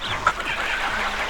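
A chicken clucks in the TalesRunner video game, giving a short, fairly faint cluck over a steady background of game music.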